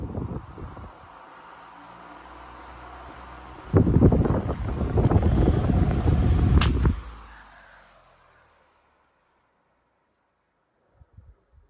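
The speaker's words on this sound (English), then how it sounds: "Now I do the oscillation spin down." A 1990s Windmere stand fan winds down: a steady airy whoosh swells into a louder rushing roar, then fades away to near silence, with a few faint clicks at the end.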